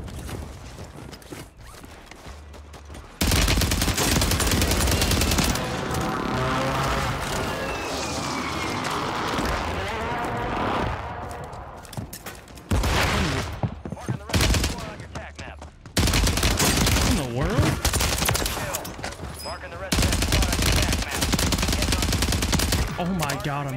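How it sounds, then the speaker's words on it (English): Automatic rifle fire from the shooter game Warzone 3 rattles in long, loud sustained bursts broken by short gaps and scattered single shots, with clatter and movement noises between. "I'm shooting right now"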